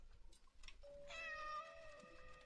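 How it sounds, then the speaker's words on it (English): A cat meows in the horror game Layers of Fear: Inheritance, a drawn-out, plaintive cry rising over a dim, murmuring ambience, with no voices. "Hey, kitty, come to fix you. Yay, purry kitty."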